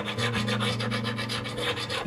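A crowning file rasps back and forth across a guitar fret in quick, even strokes, close and continuous with a steady rhythmic scraping and no voices.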